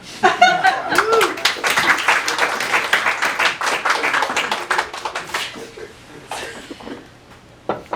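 Audience members at a comedy show applaud to cast a vote, a burst of clapping mixed with laughter and voices that peaks early, then thins to scattered claps and quiet.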